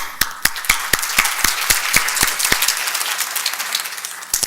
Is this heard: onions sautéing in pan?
no